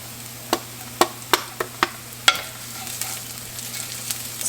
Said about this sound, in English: Now we're gonna add in our garlic.